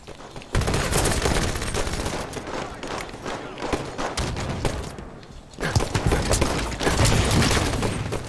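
Heavy gunfire and booming blasts rattle through a Halo 5 match, one of them a rocket launcher firing, dense and loud in bursts with a short lull midway.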